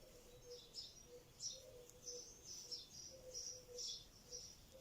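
Birds chirp and tweet faintly in the distance, short high calls repeating over a soft, steady background hiss.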